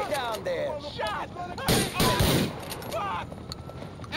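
Gunfire in GTA IV, a loud cluster of shots and blasts midway through a busy game scene, with voices speaking before and after the shooting.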